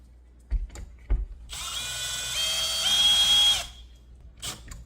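A power drill drives a Kwikset lock bolt into the bottom of a door handle, a whirring burst of about two seconds with a pitch shift, framed by a few clicks and knocks before and after.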